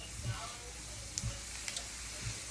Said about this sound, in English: I'm just gonna let this get really translucent and saute nicely